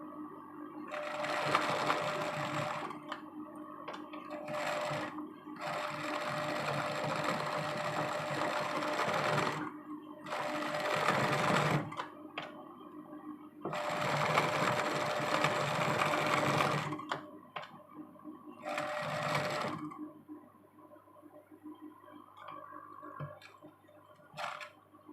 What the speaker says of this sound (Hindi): देखिए अब हम स्टिचिंग शुरू करते हैं।